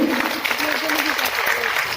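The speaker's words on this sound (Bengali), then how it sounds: "একটু জোরে হাততালি হোক সবাই মিলে" An audience at a stage programme in Kolkata claps in a dense, continuous patter, while a voice talks loudly over it.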